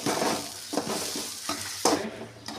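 Carrots, capsicum, beans and cabbage fry in a little oil in a pan, giving a loud, close sizzle with several distinct stirring scrapes at irregular intervals.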